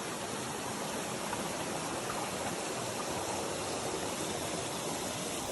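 Waterfall in Ghana, a dense, loud, steady rush of falling water that fills the whole scene without pause, with no voices over it.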